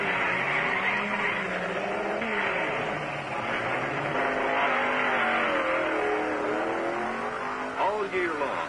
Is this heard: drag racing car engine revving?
yes